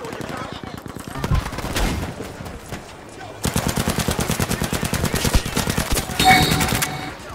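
Rapid automatic gunfire in Battlefield 5, sustained bursts of dense, loud shots that grow heavier partway through, with scattered single reports and game effects around them.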